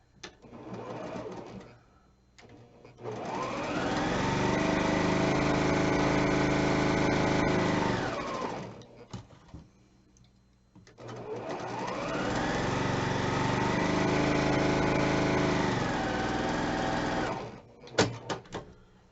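A sewing machine stitches quilt blocks for a Valentine mystery quilt in two long, steady, close runs of several seconds each, separated by a short pause, with no talking.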